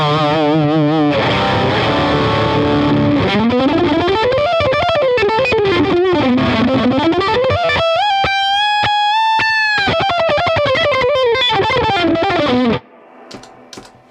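Electric guitar driven through an overdrive pedal into a Peavey Bandit 112 amp, a loud, distorted line with sliding bends and a sustained held note before stopping abruptly into quieter hum.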